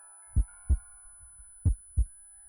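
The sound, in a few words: heartbeat sound in visual novel A Tithe In Blood, from a video game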